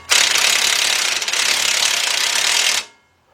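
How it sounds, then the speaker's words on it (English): A cordless impact wrench fitted with a 3/8-drive 15mm deep socket, used on the suspension of a 2005 Chevy Trailblazer, hammers out one loud, continuous close-up burst of about three seconds before it cuts off to quiet. "we're going to take a 15mm deep, 3/8 drive, my cordless impact, and a 15mm wrench to hold this into place"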